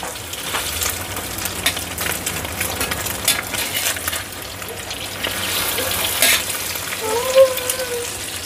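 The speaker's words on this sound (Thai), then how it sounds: "นี่เดี๋ยวเราจะทอดให้มันเหลืองๆ" Sesbania flowers frying in a pan, a steady close crackling sizzle with faint stirring scrapes throughout, no talking.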